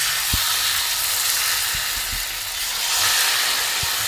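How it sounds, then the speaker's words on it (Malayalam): Batter-dipped cauliflower fries in a pan of hot oil, giving a steady, close sizzling hiss throughout, with a few faint low knocks from utensils underneath. "എണ്ണ ചൂടായ ശേഷം ഇതിലോട്ട് നമുക്ക് കോളിഫ്ലവർ മാവിൽ മുക്കിയത് ഇടാം."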